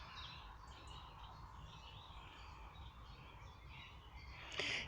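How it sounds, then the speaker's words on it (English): Birds call faintly in the open along a countryside path, with a magpie chattering nearby and scattered chirps over a steady outdoor hiss, no talking. "Birds are so noisy."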